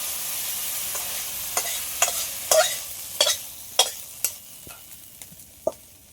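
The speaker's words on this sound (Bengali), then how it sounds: "মশলাটা তো ভালো করে একটু কষিয়ে নিয়েছি এবার এই খিচুড়ির মধ্যে দিয়ে দেবো" A spatula stirs fried spice masala into khichuri in a pot, sharp irregular scrapes and clinks over a quiet background, close and distinct with no voices.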